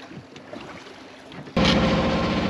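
A sailboat motoring in a dead calm with no wind: quiet, faint water sounds at first, then the engine cuts in abruptly and runs loud and steady, close by, to the end.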